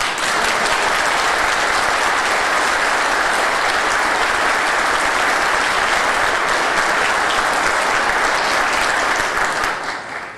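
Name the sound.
audience applause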